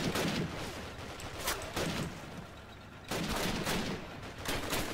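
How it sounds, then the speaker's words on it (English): MG42 machine gun in a Call of Duty battle: dense, continuous bursts of rapid automatic fire mixed with other gunshots, loud and close, with brief lulls between volleys and no talk. "There's an MG42 right there."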